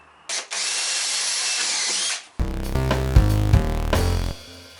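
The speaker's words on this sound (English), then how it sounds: "Now I'm going to drill some small pilot holes around the edge of the shelf." A power drill bores small pilot holes into the edge of a wooden shelf in a garage, a steady high whine followed by a louder, lower grinding burst as the bit bites into the wood, then it stops.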